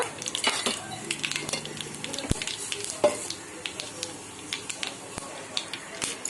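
Spices and chana dal tempering in hot oil for lemon pulihora, a steady crackling sizzle with sharp pops and occasional spoon scrapes against the pan, close and moderately loud.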